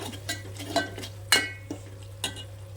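For mutton curry, onions frying with ginger-garlic paste and turmeric: a few scattered scrapes and clinks of a spoon stirring in the pan over a faint sizzle and a steady low hum.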